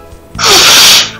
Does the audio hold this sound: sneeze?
yes